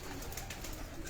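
Pigeons coo softly on a rooftop, a brief, faint burst of low throaty calls over a noisy background.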